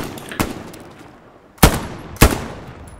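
Gunfire in a World War II video game battle on Omaha, a machine gun position in the road, as three separate sharp, loud shots spaced irregularly over a quiet background, with no talking.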